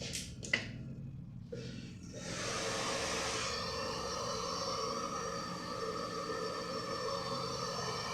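A barbershop hair blower starts after a few clicks and runs as a steady, breathy whoosh for several seconds, fairly close and alone without talk.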